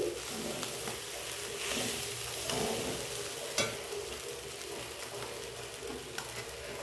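Fried rice being stirred in a pan over low heat, with a steady soft sizzle and occasional scraping strokes throughout, no talking.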